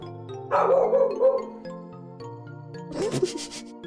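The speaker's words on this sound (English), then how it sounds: "What the dog doing?" A dog barks in a short burst of loud, close barks, then gives a second, shorter round a couple of seconds later, over a quiet musical background with a faint jingle.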